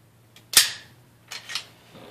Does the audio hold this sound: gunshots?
yes